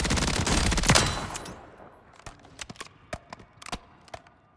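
Gunfire from a close-range weapon on the Warzone firing range: a dense burst of automatic shots that decays into a sparse string of separate sharp reports, fairly close and loud.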